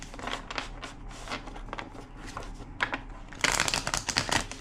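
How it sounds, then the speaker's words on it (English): Close, papery riffling and flicking of tarot cards being shuffled, in repeated bursts that grow louder toward the end. "2 more shuffles."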